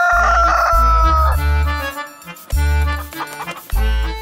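A rooster crows in a Malayalam short film, one long loud call set against music with heavy, pulsing bass beats.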